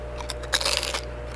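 Salted fried potatoes are bitten and chewed up close, giving a few crisp, loud crunches clustered in the middle of a brief moment outdoors.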